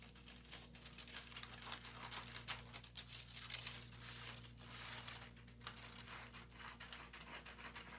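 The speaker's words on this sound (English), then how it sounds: "Then I cut my pattern piece out on the dotted lines." Scissors snipping through a paper sewing pattern piece, a quiet run of crisp crinkling cuts and rustles in an uneven rhythm, close by over a low steady hum.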